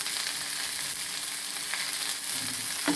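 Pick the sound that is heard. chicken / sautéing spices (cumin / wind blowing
sautéing spices (cumin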